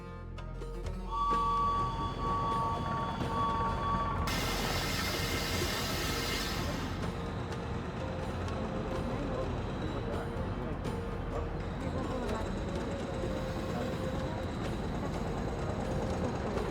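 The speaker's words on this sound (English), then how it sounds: "Now we can sit back and enjoy a relaxing train ride." A train rolls along in the Orient Express video game, a steady loud rumble with a brighter hissing burst partway through and faint tonal layers, voices occasionally present over the noise.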